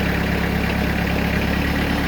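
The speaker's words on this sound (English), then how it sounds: "That's typical of how these diesels start up when they're brand new." The brand-new diesel engine on a 2020 Timberking sawmill idles loudly and close, a steady low throbbing rumble with constant vibration and no pauses.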